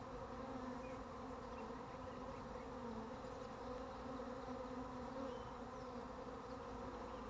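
A honeybee swarm settles onto a pine tree, its dense, steady buzzing filling the air continuously and close at hand with no voices.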